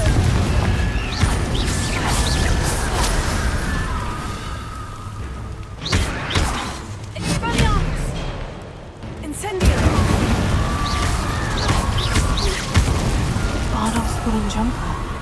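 Confringo fire spell blasts in the Hogwarts Legacy video game, heavy booming bursts amid constant loud combat noise and game effects, with no talking.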